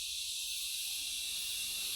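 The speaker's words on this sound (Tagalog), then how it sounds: "Ang lakas ng uni ng mga kuliglig." Dense, steady insect trilling fills the upper range, loud and continuous like a chorus of crickets, with a faint low rumble beneath.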